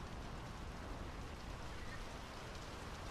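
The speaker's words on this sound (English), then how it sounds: "The rain's picking up." Rain from the video game Draugen pours down steadily, a dense, even hiss of falling drops with no pauses, fairly soft and heard alone without voices.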